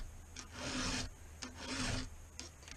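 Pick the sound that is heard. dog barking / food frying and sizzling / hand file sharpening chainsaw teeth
hand file sharpening chainsaw teeth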